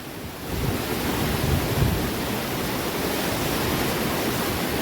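Floodwater rushes through a village in Balasore, Odisha, as a steady, loud, broadband roar that continues without a break.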